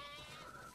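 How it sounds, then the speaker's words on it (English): Sheep bleat in The Last of Us Part II, a flock being counted into a barn, including a lamb; a short, clear bleat rises over a steady ambient backdrop. "That's a lot of sheep"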